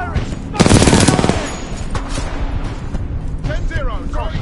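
Rapid automatic gunfire bursts loudly from a weapon in the shooter game Titanfall 2, a dense roaring volley for about half a second, then quieter scattered shots and game effects, with voices speaking over the action.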